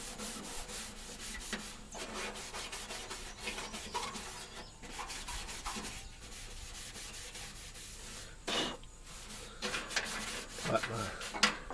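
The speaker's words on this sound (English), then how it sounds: "I kind of go back over it with a scuff pad just to make sure I got everything kind of rough a little bit" A scuff pad rubs back and forth over the sanded body panel of a 1966 Chrysler 300, producing a steady close rasping scrub with brief pauses and shifts in pressure.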